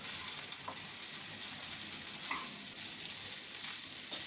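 Sabudana tomato khichdi frying in a pan, a constant fairly quiet sizzle with a few soft scrapes as it is stirred.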